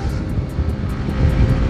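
A Honda PCX 160 scooter fitted with 12-gram pulley rollers drones up close as it accelerates, a steady engine hum that swells louder toward the end.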